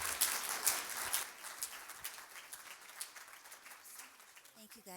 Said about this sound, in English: please give a round of applause for Lola Strong.